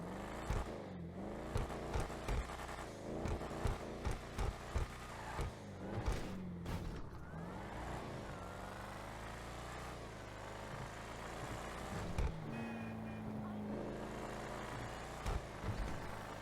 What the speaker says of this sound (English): The STX is a pretty good sounding car.